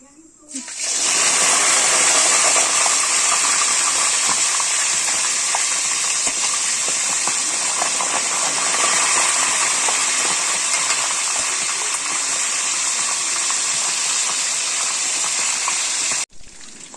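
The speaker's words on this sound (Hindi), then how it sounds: "इसी तेल में हमें ये चिकन फ्राई करना है।" Chicken deep-frying in mustard oil heated until smoking, for a Kashmiri-style dish: a loud, dense, steady sizzle that holds for about sixteen seconds before cutting off abruptly.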